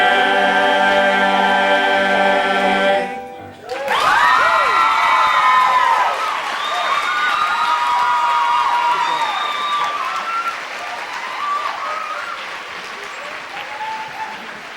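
An audience at a school holiday concert bursts into loud, sustained applause right after music ends, with scattered cheers and whoops mixed into the clapping before it slowly tapers.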